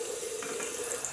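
A razor, a 1960s Gillette Fat Boy, is rinsed under a running tap, a steady close rush of water splashing into a sink for about a second with no voices.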